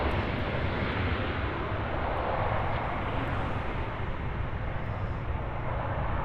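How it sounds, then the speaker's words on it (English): A Delta A330-900 taking off from runway 24 left at Los Angeles airport, a steady, loud broadband jet engine roar that holds without pause throughout. "that Delta A330 900 now rolling down runway 24 left for its departure"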